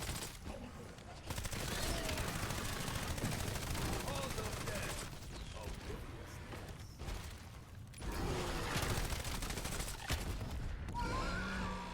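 Sustained gunfire in Black Ops 7 Zombies, with dense overlapping shots and a steady loud clatter that runs nearly throughout, broken by a couple of brief lulls; game sounds and effects mix in.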